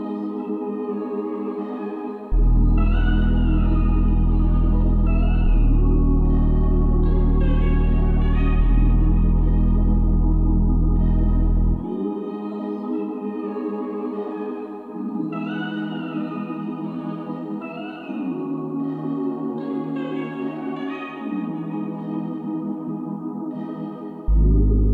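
Original music sample for a beat: loud looping melodic chords with shifting sustained tones and heavy low bass blocks entering and dropping out, playing alone with no voices.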